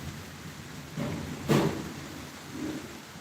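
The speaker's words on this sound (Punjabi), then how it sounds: "ਆ ਬਾਰਿਸ਼ ਆ ਗਈ" Steady rain hisses down, with a soft thump partway through.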